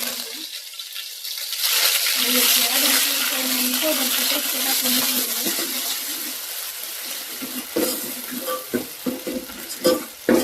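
Cumin and mustard seeds hitting hot oil in a pan, bursting into a loud, steady crackling sizzle that gradually eases, followed by a few sharper pops and spoon clinks near the end.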